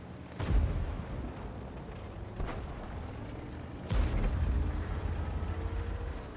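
Shell explosions strike a tank turret in the World of Tanks video game, two heavy booming impacts a few seconds apart over a steady low rumble of battle noise.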